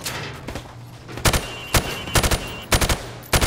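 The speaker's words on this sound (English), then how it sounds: "I want to see you fire from the hip." Hip-fired rifle shots in Call of Duty Modern Warfare Remastered, loud short bursts of automatic gunfire in four or five separate clusters over a steady low game hum, no talking.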